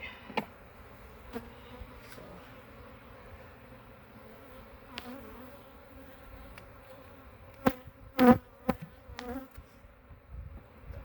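Honey bees buzz around an opened backyard hive in a low steady hum, close and fairly soft, with a few louder individual bees passing near and brief knocks and clicks from handling the frames.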